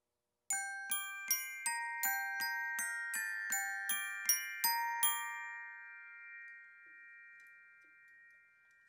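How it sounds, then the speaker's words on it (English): Song bells struck with brass mallets alongside a glockenspiel struck with rubber mallets, ringing out about a dozen bright, evenly spaced metallic notes that then sustain and slowly fade into a long shimmering decay. "Brass on song bells. Rubber on Glock."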